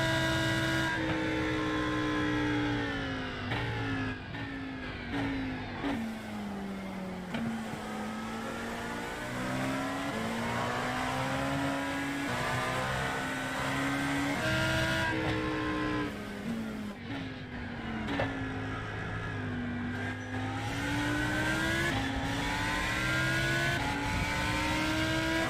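Lamborghini race car from an iRacing sim race at the Daytona 24 Hours, its engine droning steadily and rising and falling through repeated gear shifts and revs, loud and continuous with no talking.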